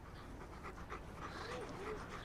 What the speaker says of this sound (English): Oh my goodness, what a cute pup.